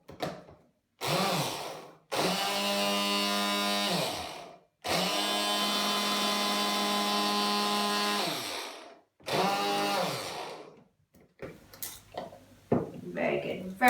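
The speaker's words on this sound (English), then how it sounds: "What we want to do with the xylitol first is just put it in a blender so that we can make it to a powder" A kitchen blender grinds xylitol into powder in several loud bursts of whirring motor noise separated by brief pauses, with a voice speaking between runs.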